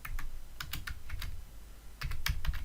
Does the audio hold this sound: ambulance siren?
no